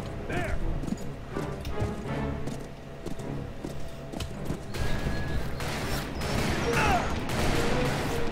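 Horse hooves in the video game Call of Juarez Bound in Blood, irregular clopping hits mixed with crashes and game effects, with a possible whinny and busy background sound throughout.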